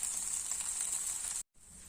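A ragi and moong dal dosa cooks on a hot pan, giving a soft, steady hiss that breaks off briefly near the end.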